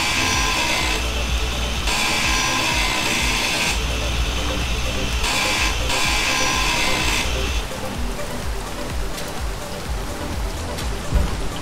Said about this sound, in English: That little saw cutting the trees down is cracking you up